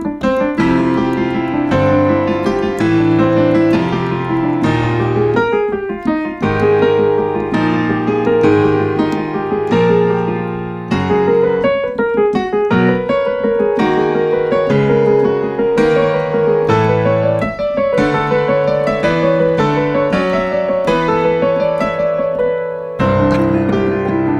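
Piano plays a looping exercise that moves through four keys, a steady stream of repeated chord and melody patterns at full, close volume with no talking, continuing for the whole stretch apart from a brief pause near the end.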